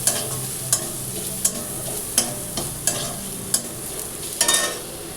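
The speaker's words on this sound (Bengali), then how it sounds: "পনিরটা দিয়ে একটু নাড়াচাড়া করে আমরা এটা নামিয়ে একটি রুটি নিলাম।" Mashed paneer with black pepper stirred in a hot frying pan, a soft sizzle under regular spatula scrapes and taps roughly every 0.7 seconds, close and clear.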